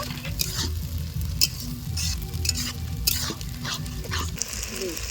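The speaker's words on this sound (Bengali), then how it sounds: "আদা জিরে বাটা দিয়ে ভালো করে কিন্তু মশলাটা কষিয়ে নেব।" Onions sautéing with whole ginger and cumin in a pan make a continuous dense sizzle, with repeated stirring scrapes on top, close and loud, and a low background hum at an outdoor Christmas Day picnic.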